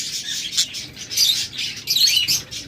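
A Japanese lovebird pair kept in a cage chirps and tweets in quick, close bursts, bright and fairly loud, with no voices.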